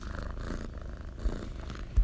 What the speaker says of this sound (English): I'm sorry about the purring right now